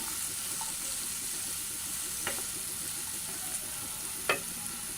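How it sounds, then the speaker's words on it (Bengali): Bamboo shoots frying in a pan, a continuous dense sizzle throughout with a couple of faint utensil taps, steady and close, no voices. "চুলার আঁচটা একটু বড় করে দিই ভেজে নিচ্ছি"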